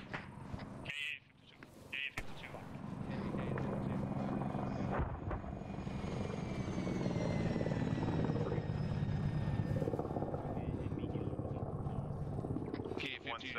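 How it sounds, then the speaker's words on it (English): A helicopter from the military game ARMA 3 drones and thrums steadily overhead, its rotor and engine noise building after a brief quieter opening and holding loud and continuous, with radio chatter briefly heard near the start. "Helicopter northwest."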